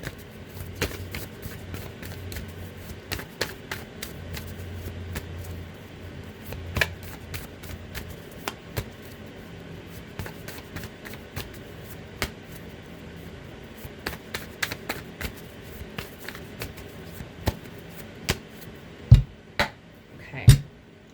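Tarot cards are shuffled over and over in quick riffling bursts, with sharper taps and snaps as the deck is squared near the end.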